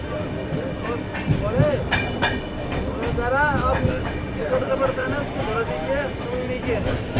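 A passing Bharat Gaurav Express train rumbles by on a sharp curve, its wheels clicking and squealing in a steady loud clatter, heard from aboard another moving express train with faint voices mixed in.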